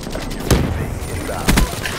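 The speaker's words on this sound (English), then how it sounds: "So let's throw a grenade over there," Two sharp bursts of gunfire and an explosion from Call of Duty Black Ops 3 on the Nuketown map, with a grenade thrown during online play. The blasts come about a second apart and sit over constant background game noise.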